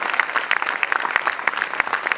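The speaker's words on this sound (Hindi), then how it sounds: "अच्छा लगे तो ताली बजा देना।" Audience applause at a Hindi poetry gathering, a dense, even clapping from a crowd that fills the whole moment without anyone speaking.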